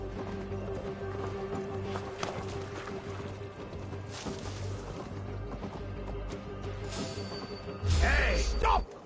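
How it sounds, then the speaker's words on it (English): Horse hooves clip-clopping in the video game Assassin's Creed Valhalla, a steady trot of hoofbeats under game music and ambience, with a louder burst near the end. "That horse!"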